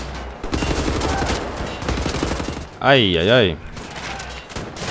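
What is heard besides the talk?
gunfire in a video game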